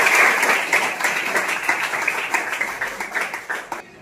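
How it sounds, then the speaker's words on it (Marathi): Schoolchildren clap for a classmate at a village school talk, a dense burst of applause that loosens into scattered claps over a few seconds. "यशवंत तिच्यासाठी टाळ्या वाजवा."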